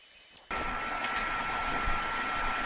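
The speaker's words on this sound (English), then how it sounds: "we'll use this tool to put a little bevel on these inside corners" A handheld beveling tool chamfers the inside corners of a flat, clamped plasma-cut metal plate, giving a steady, loud, broadband grinding whir that starts abruptly after a brief quiet moment and runs continuously.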